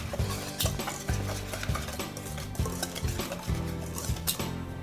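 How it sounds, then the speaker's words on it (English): Dry ingredients with baking cocoa for chocolate protein bars being mixed in a bowl, a close, steady rhythm of soft scraping and tapping strokes from the utensil continuing without pause. "Now I'm gonna just mix up these dry ingredients."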